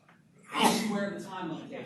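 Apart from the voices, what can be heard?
sneeze in classroom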